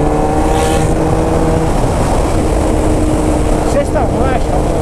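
Volvo-style B-King truck in sixth gear pulling hard, a steady loud engine drone with layered harmonics running throughout, a driver talking over it.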